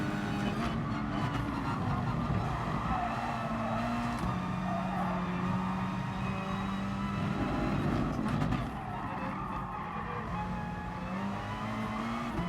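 Race car in the GT Sport video game under late braking while defending the inside line, with a steady engine drone, falling pitch and a tire scrub midway, loud and continuous throughout.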